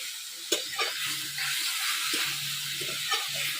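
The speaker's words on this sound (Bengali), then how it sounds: "এবার আমি আস্তে আস্তে ভেজে নেবো, আস্তে আস্তে জাল দেবো আর ভাজবো।" Shrimp slowly frying in a pan for a traditional Bengali village dish, a steady hiss and sizzle with soft bubbling, broken by a few brief clinks and stirs, close and fairly quiet.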